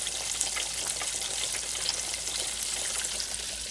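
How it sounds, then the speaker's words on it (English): Vegan chicken pieces frying in a deep fryer, with a steady, dense hiss and crackle of bubbling oil close by, continuous and even throughout, no voices. "So I'm put it in my deep fryer."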